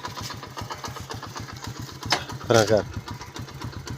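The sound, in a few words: motorcycle engine idling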